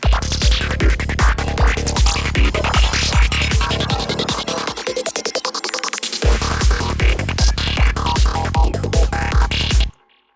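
A loud psytrance track with steady pounding beats; a reverse crash leads in as the low end drops away briefly under a rising high-pass filter sweep, then the full beat returns before cutting off.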